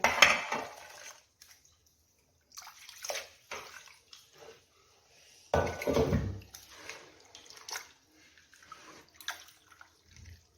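Mutton head being washed in water: intermittent splashing and sloshing bursts, close up, with a few light clinks and quiet pauses between.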